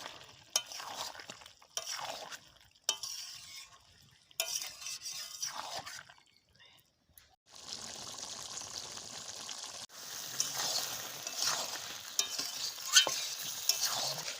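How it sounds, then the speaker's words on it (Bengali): A large two-kilogram batch of chicken pieces sautéed in a pan, with intermittent stirring strokes and scrapes, then a steady, close, louder sizzle under continued stirring in the second half. "তো মাংসটা কষানো হয়ে গেছে"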